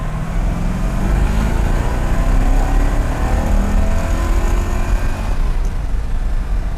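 A 1963 split-window Corvette's engine pulls hard through a higher-RPM run on the road, a loud continuous drone of engine and road noise from inside the car, with no talking.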